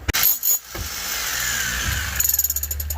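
A power drill runs in a cramped crawl space, whining steadily before ending in a rapid series of ratcheting bursts, with brief knocks at the start.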